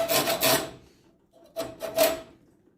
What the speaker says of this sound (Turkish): tornavida dişi açıyoruz